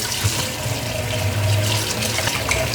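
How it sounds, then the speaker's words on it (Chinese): Tap water runs steadily into a basin to rewash cut lotus root, a continuous splashing rush that stays near and fairly loud throughout, with no talk. "把切好的莲藕放入盆中，开水，把莲藕再洗一遍。"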